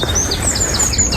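Garden birds singing on a bright early morning, a loud close run of high chirps and whistled phrases repeating rapidly over faint background ambience, with no talking.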